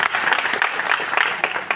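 Dense, steady applause from an audience at a Hindi kavi sammelan poetry gathering in Ayodhya, many hands clapping at once in a continuous loud wash with no speech over it.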